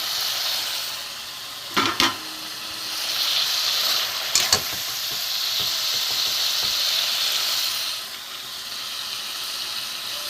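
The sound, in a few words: Tilapia fish curry boiling in oil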